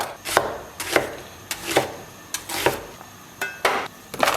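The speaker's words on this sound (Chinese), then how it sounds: "我们把洋葱给它切碎" A knife chops onion on a cutting board with six evenly spaced, crisp thuds, each distinct and close, with no talk.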